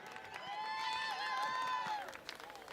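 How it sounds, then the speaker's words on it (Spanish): An audience at a city anniversary festival in Río Gallegos cheers and applauds, with a prolonged shout rising above the crowd for about two seconds before fading. "a ver que se escuche ese aplauso."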